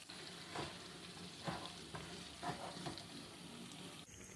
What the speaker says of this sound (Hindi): मसाला डालने के बाद 3 से 4 मिनट हम भून लेंगे।